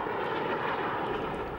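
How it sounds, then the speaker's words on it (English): V-22 Osprey tiltrotor aircraft in flight, a steady broadband engine and rotor roar that holds at an even level throughout, with no voices. "it takes only 12 seconds for it to convert from hover to full-flying turboprop airplane"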